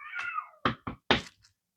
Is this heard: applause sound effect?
no